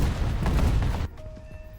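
A bomb dropped onto a target explodes in the War Thunder video game: a loud, dense blast roars for about a second, then drops to a quieter rumbling tail.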